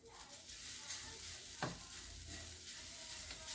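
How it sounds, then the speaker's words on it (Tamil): Grated coconut is dry-roasted in a pan and stirred to drive off its moisture, giving a soft steady sizzle with scraping stir strokes close up and no talking. "ஒரு 3/4 மூடி தேங்காய் போட்டு ஈரம் போகிற அளவுக்கு நல்லா வறுத்துக்குருவோம்."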